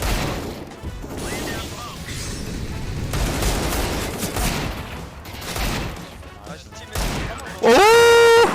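Desert Eagle pistol shots in the video game CS:GO, with sharp, loud gunfire bursts over a busy game soundscape that ends in a sustained electronic tone, and no voices heard.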